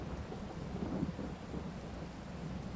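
Steady rain pours down in Farming Simulator 22 on the Haut-Beyleron map during a corn harvest, with low thunder rumbling through it. The dense, continuous wash of rain is loud and close, and no one speaks.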